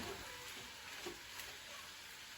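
Vegetables sauté in a hot inner cooking pot, a faint, steady sizzle with soft stirring scrapes, quiet and close.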